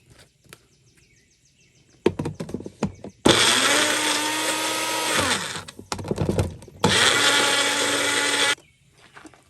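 An electric blender whirs loudly in two separate bursts while blending fruit for Christmas jam, each a few seconds long, with clattering and knocking of the jar and lid before, between and after.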